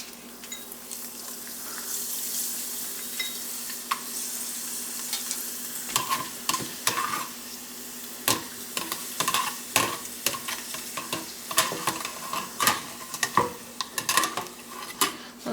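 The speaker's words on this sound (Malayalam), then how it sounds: "ഇപ്പോൾ പപ്പടം ഓയിൽ ചൂടായിട്ടുണ്ട്. നമുക്ക് പപ്പടം വറുത്തെടുക്കാം കേട്ടോ." Papadams frying in hot oil in a home kitchen, a continuous sizzle with crackling bursts and sharp clinks of a utensil stirring and turning them in the pan, growing busier as more pieces hit the oil.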